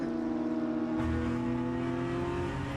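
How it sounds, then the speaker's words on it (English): BMW M2 CS race cars lap the Nurburgring in a sim racing game, heard from outside as a steady engine drone with shifting pitch and a brief surge partway through. "Now we can hear the outside, hear the cars as well."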